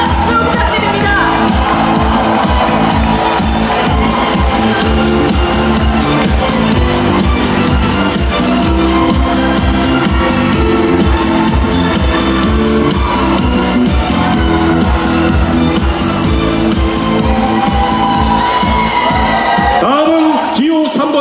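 A large crowd at a Democratic Party joint campaign rally in the Chungcheong region greets candidate number 2, Kim Kyoung-soo. Loud, dense cheering, whoops and applause run unbroken for about twenty seconds, and an amplified voice shows through the din.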